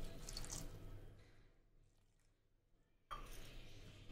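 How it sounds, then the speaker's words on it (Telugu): Water is poured in a short splashing stream into a rice and onion mixture with chilli powder and salt, a brief liquid trickle, then a pause before another close burst of splashing. "కొద్దిగా వాటర్ పోసుకోవాలి।"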